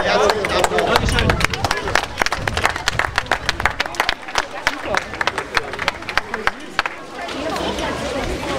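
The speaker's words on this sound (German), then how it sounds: "Dafür nochmal einen herzlichen Applaus." Audience applause at a girls' mini football World Cup event in 2011, clapping mixed with crowd chatter, sharp claps scattered through the middle and then a steadier wash of clapping near the end.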